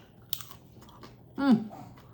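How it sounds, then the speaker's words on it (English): A single close crunchy bite and chew into air-fried sweet potato coated in cinnamon, brief and crisp, with a short break of faint background noise before it. "here is my air fried sweet potato. I've just covered it in cinnamon, and it is very nice and crunchy."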